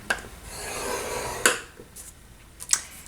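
Paper for a pumpkin latte sleeve is scored on a scoring board, making a short close rasping drag followed by a few sharp taps and clicks, quiet and alone.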